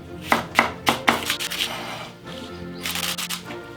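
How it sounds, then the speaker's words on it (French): A knife cutting shallots on a board, a quick series of sharp, close chopping taps, then a pause and another cluster of cuts. "Couteau rouge bien sûr, échalote coupe 2 et échalote coupe d'intérieur, comme ça."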